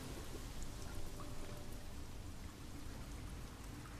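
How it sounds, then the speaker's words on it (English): Steady rain falls in the video game Sky: Children of the Light, a constant dense hiss of drops on surfaces with low rumbling beneath, holding even and fairly quiet throughout with no talk. "What? Oh, the rain."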